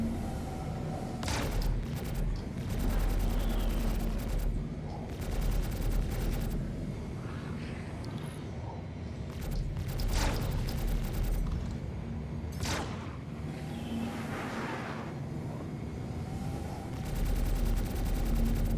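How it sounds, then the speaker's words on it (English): Spaceship weapons fire in Star Citizen during a dogfight, long rapid bursts of rattling gunfire over a deep engine rumble, with a few sharper impacts between the volleys. "Keep those shots in so that we keep his shields from regenerating."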